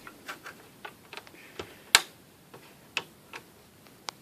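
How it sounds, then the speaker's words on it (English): Small plastic clicks and ticks as a white Xbox 360 case is pried open with a tool, a few sharp snaps scattered irregularly among softer scraping, close and quiet. "stick the thing in there, and you're going to hear a little click right there"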